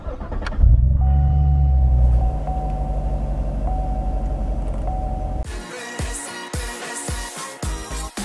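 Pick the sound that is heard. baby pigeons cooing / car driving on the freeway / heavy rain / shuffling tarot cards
car driving on the freeway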